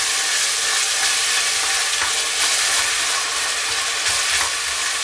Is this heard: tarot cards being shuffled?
no